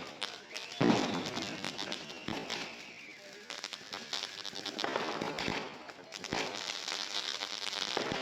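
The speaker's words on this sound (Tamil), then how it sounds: "இப்படி தான் நைட்டு ஃபுல்லாக வெடியாக வெடித்து தள்ளிட்டு இருந்தாங்க" Diwali firecrackers bursting at night, a dense run of crackling pops and sharp bangs with one louder blast early on, steady and continuous from start to finish with no talk.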